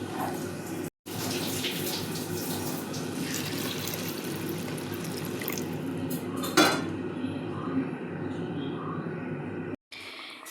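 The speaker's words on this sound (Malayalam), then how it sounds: "നമുക്കിനി ഇതിലേക്ക് തിളപ്പിച്ച വെള്ളം ചേർക്കാം." Boiled water pours into a pan of chicken gravy in a home kitchen, a steady splashing wash that runs through most of the clip with a couple of brief pauses and a clink of utensils.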